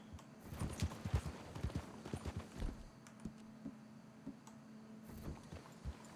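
A horse's hooves clip-clop at a walking pace in the video game Red Dead Redemption 2, a series of uneven thuds, clustered at first and then more spaced out, over a faint steady hum.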